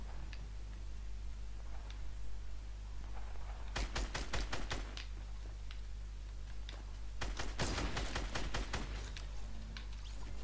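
Gunfire in the video game Fortnite: several rapid bursts of automatic shots near the middle and a denser volley around the eight-second mark, over a steady low game hum, with no talking.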